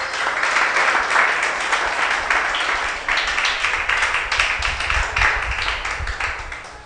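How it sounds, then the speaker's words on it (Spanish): A church congregation bursts into loud, sustained applause during a sermon, a thick wash of many clapping hands that stays full and close from start to finish. "Dale un aplauso al Señor"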